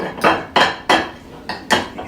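A spoon scrapes and clinks against the metal inner pot of an Instant Pot while beef stroganoff gravy is stirred, with five rhythmic strokes close by and no talk.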